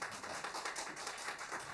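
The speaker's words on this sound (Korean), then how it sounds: "다시 한번 뜨거운 박수 부탁드리겠습니다" Audience applause at a Korean traditional music concert after a haegeum sanjo performance, a dense steady patter of many hands clapping throughout, fairly even in loudness with no voices over it.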